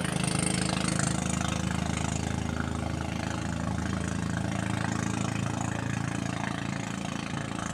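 Engine of a small wooden fishing boat heading out to sea off Burias Island, droning steadily at an even, moderate level with no talk.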